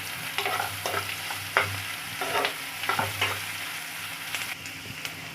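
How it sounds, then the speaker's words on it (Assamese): Ginger garlic paste and onions frying in a pan for a jackfruit seed curry, with a steady close sizzle and repeated scraping stirs of a spoon against the pan throughout. "আৰু এতিয়া মই আদা নহৰু কেঁচা গোন্ধটো যোৱালৈকে পিঁয়াজখিনি ভালদৰে ভাজি ল'ম।"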